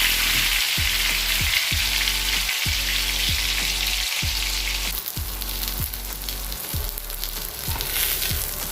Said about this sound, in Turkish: Diğer ekmeklerimizi de aynı şekilde kızartalım.